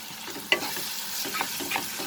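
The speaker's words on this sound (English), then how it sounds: "So over a medium flame, we'll cook the masala." Green chilies and masala sizzling in a pan over a medium flame for soya keema, a steady frying hiss broken by soft stirring scrapes.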